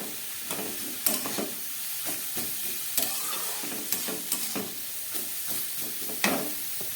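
Carrot and potato pieces cook together in a pan with a steady low sizzle, broken by repeated sharp scrapes and clinks of a spoon stirring, fairly close and with no talk.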